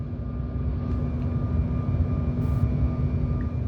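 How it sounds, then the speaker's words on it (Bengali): An airplane lands in a storm, its engines a steady, loud broadband roar with a faint tonal whine, heard from inside the cabin throughout. "প্লেনটা যখনই ল্যান্ড করবে তারও কিছুক্ষণ আগে থেকে এরকম ঝড় বৃষ্টি শুরু।"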